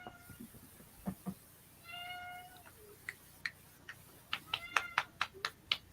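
A cat meows repeatedly in short, fairly faint calls, with a run of quick, close meows toward the end and a few soft taps and rustles between them.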